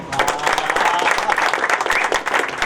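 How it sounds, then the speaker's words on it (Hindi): Loud, steady crowd applause fills the whole stretch at a motorcycle ride event delivering rakhis to the Indian Army. Dense clapping runs without a break, with faint voices mixed in. "सबके लिए जोर से तालियां हो जाए"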